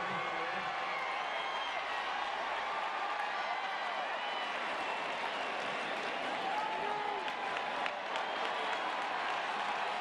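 Partisan crowd roaring and cheering inside Auburn's football stadium during an Auburn Tigers versus LSU Tigers game, a steady, dense wall of applause and shouting that holds loud for the whole stretch, with whoops rising through it.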